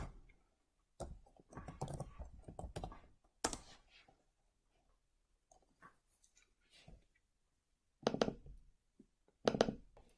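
Computer keyboard keys click in scattered clusters of quiet taps. The taps come in short runs separated by near-silent gaps, and no one talks.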